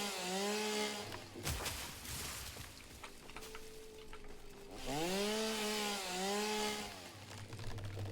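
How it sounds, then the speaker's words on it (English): A chainsaw cuts down trees in the Satisfactory video game, its engine revving and falling in two loud surges with a rougher, lower cutting stretch in between. No voices. "I may eventually end up cutting down more trees anyway, just to make space"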